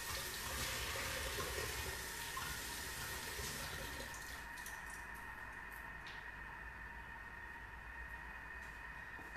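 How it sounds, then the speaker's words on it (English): Water from a kitchen tap runs steadily while hands are washed, a close hissing splash that is louder early on and then settles into a softer, even flow. "and wash my hands."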